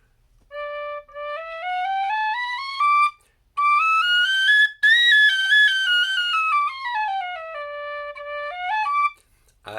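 A Walton's D tin whistle plays a clear, bright melody of stepped notes rising and falling in phrases, with short pauses between them and no talking.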